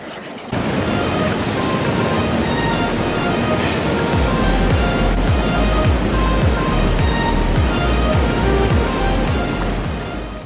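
Jog Falls in Karnataka, India's highest waterfall, roars in a loud, steady, broadband wash of falling water. The sound is constant and close for the whole stretch, after a brief quieter moment at the very start.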